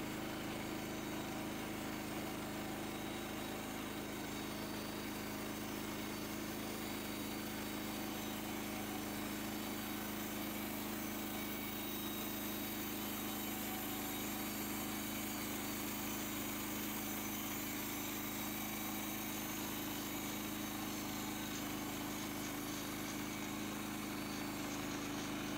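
A sawmill slices a 1-inch board from a log cant, its engine giving a steady high, buzzing drone that runs unbroken and very faint throughout.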